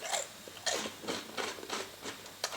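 Crunchy Biscotti del Lagaccio biscuits being chewed up close, giving a run of about seven crisp, fragile crunches at an uneven chewing rhythm with soft breathing between bites.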